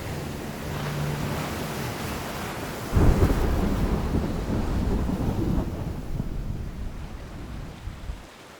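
Heavy rain roars steadily while a deep thunder rumble breaks in loudly, then slowly fades back into the downpour.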